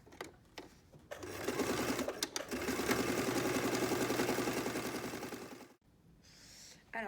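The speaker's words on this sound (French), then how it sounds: "maintenant, je vais les coudre dans l'autre sens" Sewing machine running steadily for several seconds while stitching seams across a fabric needle case, a dense rapid whirring chatter with brief starts before it, then stopping abruptly near the end.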